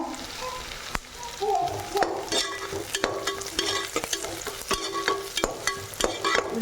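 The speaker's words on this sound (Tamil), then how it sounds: "எல்லாம் போட்டு நல்லா வதங்கிருச்சு" Mint and curry leaves sizzle and fry in a pan for ghee rice, with a spoon repeatedly stirring and scraping in an even, close, crackling rhythm.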